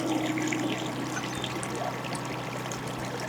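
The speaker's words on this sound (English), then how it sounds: "draining the excess water out." Excess water drains from farm field tile outlet pipes in a steady outdoor trickle and splash, a continuous moderate flow.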